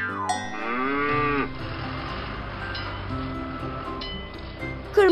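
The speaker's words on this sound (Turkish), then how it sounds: "Çanı duyuyor musunuz?" A bell rings on a cartoon farm near a tractor and a cow. It is heard with a cow-like moo and bleating animal tones, a smooth sustained ring, then a brief sharp tone at the end.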